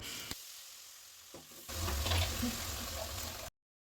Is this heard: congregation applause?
no